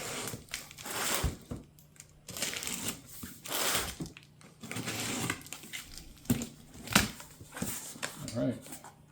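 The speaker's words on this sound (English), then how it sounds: "Let's go ahead and open the box and see what you get inside." A cardboard box holding a Daytona 3-ton jack stand is opened and its packaging handled, with bursts of crinkling, rustling and scraping at close range, separated by short pauses.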